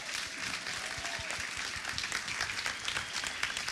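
Audience applause for panelists at a fireside chat panel, a steady wash of many hands clapping that holds evenly for several seconds, moderately loud with no talk over it.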